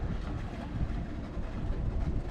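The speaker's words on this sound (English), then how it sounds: "What you can hear in the background, if you can hear anything, is a motor cruiser just starting up its engines." A motor cruiser's engines starting up, a low, steady rumble idling in the background with a constant churning drone, no voices present.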